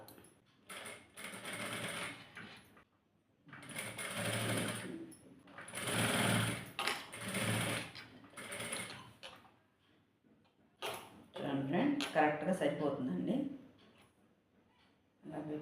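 A sewing machine stitches a baby frock in several short bursts of rapid mechanical chatter separated by pauses, close and moderately loud, with someone speaking between runs.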